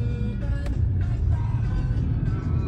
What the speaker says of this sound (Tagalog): Daming tricycle dito.